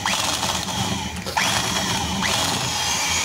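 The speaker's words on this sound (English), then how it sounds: "we are going to use a drill, and we drill on using 10 millimeters" A power drill with a 10 millimeter bit whirs steadily up close, drilling into metal on an engine bolt thread repair, its pitch sweeping up a few times, with a grinding edge and no talking.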